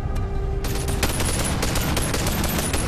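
Rapid gunfire from a weapon in the VR shooter Bonelab, a loud dense burst of repeated shots with sharp transients running nearly continuously for about two seconds over a constant low rumble.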